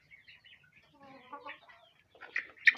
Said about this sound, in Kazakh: Әне қуып жатыр тауықтар.